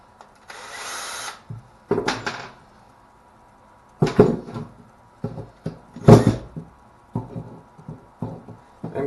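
An electric drill gives several short bursts while resin castings are demolded, with clattering knocks and handling noises scattered between the whirs.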